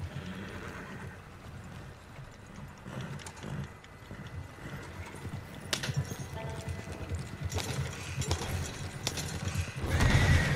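A horse in a video game whinnies and its hooves clip-clop steadily, mixed with clanking, mechanical in-game noises that grow louder toward the end.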